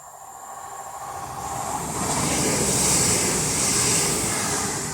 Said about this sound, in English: the next train to be coming through will be another Class 195 running from Leeds to Manchester Victoria